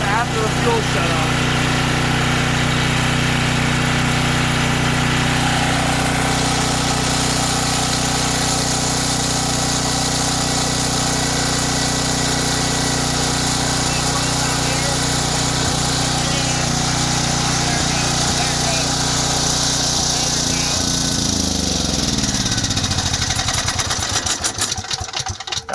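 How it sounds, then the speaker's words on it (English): A Troy-Bilt 5550/8550 watt portable generator keeps running loud and steady at close range after its fuel is shut off, then stumbles and winds down near the end. "That's running a really long time after the fuel shut off."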